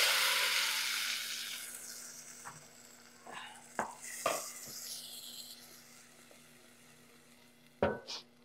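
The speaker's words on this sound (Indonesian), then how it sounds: "ini bawangnya saya mau tumis dulu ya teman-teman" Onions sizzle as they sauté in a pan for an Indonesian oxtail soup. A bright frying hiss fades gradually while a spoon scrapes and clinks against the pan several times, with a louder clatter near the end.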